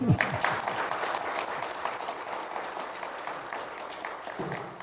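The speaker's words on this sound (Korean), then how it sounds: "이정철 회장님 큰 박수 부탁드리겠습니다" An audience applauds at the regular general meeting of the Korea Specialty Contractors Association's Gyeongbuk branch. Dense, sustained clapping fills the hall from start to finish, loud and steady, with no other sound standing out.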